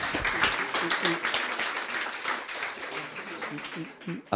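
An audience at a French book talk applauds, a moderately loud burst of mixed clapping with voices talking over it and thanking the crowd.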